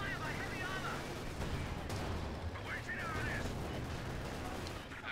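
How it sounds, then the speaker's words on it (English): Artillery and gunfire in a Company of Heroes 2 1v1 battle, a steady rumble of shelling with scattered sharp impacts, heard under the excited commentary of a man. "That's a lot of artillery coming down here."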